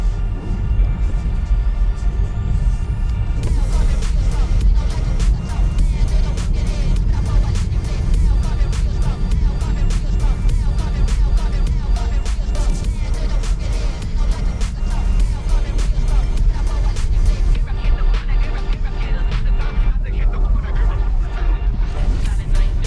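Tesla Model 3 in snowdrift mode sliding through a snowy corner, a steady loud rumble of tires and motor with dense broadband road and snow noise running continuously throughout.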